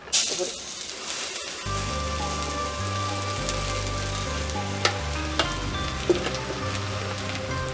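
Fried onions and other ingredients sizzle together in a pan during village cooking in Jaffna, a steady loud frying crackle with a few sharp ticks near the end under a low hum.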